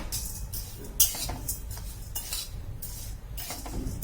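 Barnyard millet and sabudana dry-roasting in a pan, with a busy, continuous scraping of a spoon against metal and bursts of clinking that repeat in waves over the steady pan noise.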